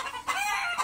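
Roosters and hens on a house rooftop cluck and call in short, close, loud bursts, several birds overlapping in under a second.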